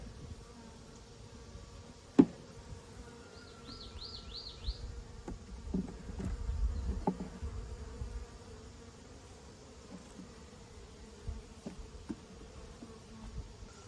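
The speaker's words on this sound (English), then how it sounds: "supposedly the bees that are on this right now won't fight with the other bees" Honey bees on a hive frame give off a soft, faint, steady buzz with a single sharp knock early on; no one speaks.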